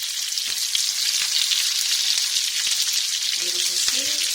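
Chicken pieces frying in hot oil for a paella, a loud, steady, dense sizzle with a few faint clinks near the end.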